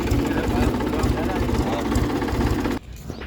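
A tractor engine drones steadily at close range on a farm during field preparation for new-season sowing, then cuts off abruptly near the end.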